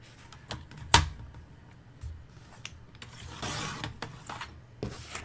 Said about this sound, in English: I'm going to turn it around, and I'm going to cut it at 5 3/8